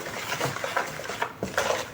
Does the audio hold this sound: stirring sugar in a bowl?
yes